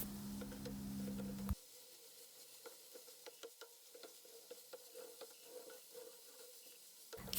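Minced meat and peppers sauté in a pan, giving a faint, steady sizzle with scattered light taps and scrapes from stirring.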